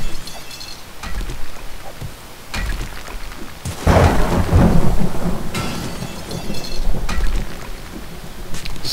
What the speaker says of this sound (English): Surprise! Thunder!